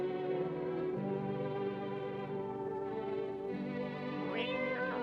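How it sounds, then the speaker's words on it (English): A drawn-out, tonal cat meow from the video game No, I'm Not A Human, with a rising, wavering pitch over a steady electronic background hum, closing with a brief upward squeal. "Meow. That cat."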